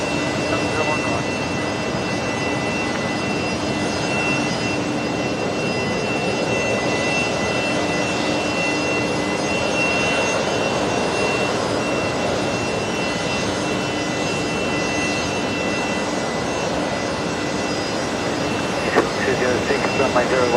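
A jet airliner lines up on the runway at night at Brisbane Airport, its engines holding a steady, loud roar and whine for the whole stretch, heard from a distance outdoors.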